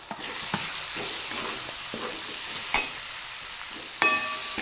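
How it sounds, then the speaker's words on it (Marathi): Kudya flower bhaji being stirred and mixed with red chili powder and salt, giving soft, scattered scraping and brushing sounds up close, with a couple of sharper clinks and no talking. "अशी हे पूर्ण भाजी मी आता मिक्स करून घेत आहे"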